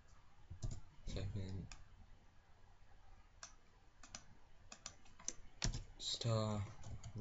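Computer keyboard keys clatter in short bursts of close clicks, with a person talking over parts of the typing.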